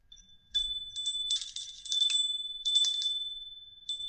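A bright metal bell rings several times in quick bursts, each ring leaving a clear high tone hanging between strikes in an otherwise quiet room.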